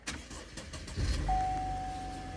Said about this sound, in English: So you'll need to turn the car on.